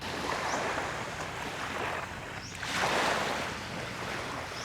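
Beach waves on Boracay Island wash ashore in a steady, moderately loud surf wash that swells once midway, with wind noise brushing the microphone and no voices.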